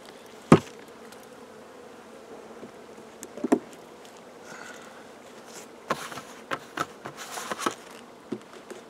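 Honey bees buzz around robbed, emptied wax hive frames of a destroyed colony, a faint scattered hum with a few sharp knocks and rustles nearby.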